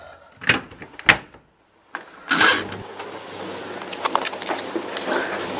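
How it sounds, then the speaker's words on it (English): A clothes dryer gives a few loud, sharp clunks in the first seconds, then after a brief pause a heavier knock leads into a steady rumbling tumble that continues to the end. "Just the loud clunk of a dryer."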